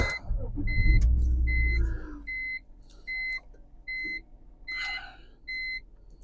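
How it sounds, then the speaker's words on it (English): A 22-year-old BMW E46 with 150,000 miles is switched on inside the cabin: a heavy low rumble for about two seconds, then a close, evenly spaced series of bright warning-chime beeps repeating over quiet interior noise. "Let me turn on the car so that you could see what the radio looks like"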